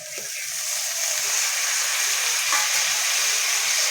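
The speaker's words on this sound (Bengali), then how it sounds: "ভালো করে ভেজে নেবো" Vegetables with tomato, green chillies and ground ginger fry in a pan, a steady close hissing sizzle that continues evenly throughout, with soft intermittent stirring knocks underneath.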